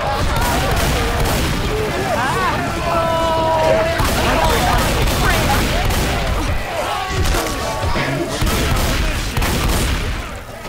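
Gunfire in the Left 4 Dead 2 video game, loud and continuous shots crackling throughout under game noise and players talking over it.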